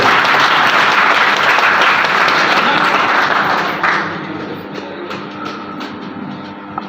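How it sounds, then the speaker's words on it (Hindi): An audience at a foundation day ceremony breaks into loud, dense applause that holds steady for several seconds, then thins out to scattered claps and fades. "एक बार जोरदार तालियां इन लोगों के लिए हो जाए।"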